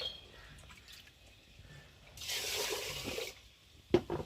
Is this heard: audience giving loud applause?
no